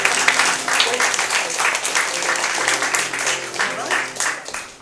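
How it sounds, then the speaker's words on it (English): Audience applause at a live improvised musical comedy show, a steady broadband wash of clapping sustained for several seconds, fairly loud and close, tapering off at the end. "I would like to give a quick round of applause to Richard Treadwell, our intern"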